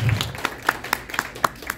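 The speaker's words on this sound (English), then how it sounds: "A hand of applause for everyone." A handful of scattered hand claps ring out at a Gundam model competition panel at Otafest 2023, sparse and uneven rather than a full ovation, each clap crisp and fairly close.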